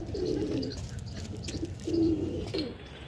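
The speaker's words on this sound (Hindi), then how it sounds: "रामपुरी गोल्डन कबूतर, ओरिजिनल रामपुरी कबूतर" Rampuri golden pigeons at a Lucknow pigeon sale coo in low, rolling bursts that repeat twice, with steady background chatter and market noise around them.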